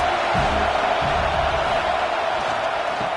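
Broad, steady roar of a stadium crowd at a college football game, a dense wash of distant voices and cheering that holds evenly throughout with no distinct announcer speech.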